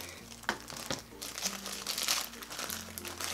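A plastic dollar-store treat bag is handled and opened, giving steady close crinkling and rustling across the whole stretch, fairly quiet.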